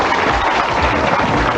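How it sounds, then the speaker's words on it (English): A game show studio audience applauds a contestant, a dense, continuous wash of clapping close and loud for the whole short stretch. "Give him a big round of applause."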